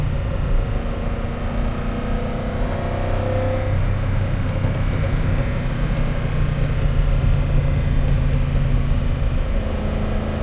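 A 50-year-old Lamborghini Urraco P250 with its small 2.5-litre V8 drives along, engine droning loud and steady throughout with a deep, racing-style rumble and no talk.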